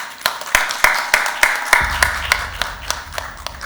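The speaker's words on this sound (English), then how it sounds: "A round of applause to our winner again" Sparse audience clapping for a school quiz winner at a grand finale, about a dozen sharp, evenly spaced claps, fairly close, with faint murmuring beneath.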